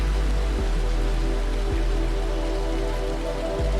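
Rain pours steadily in a constant dense hiss of drops hitting surfaces, loud and unbroken, with a low steady hum underneath and a few faint soft thumps.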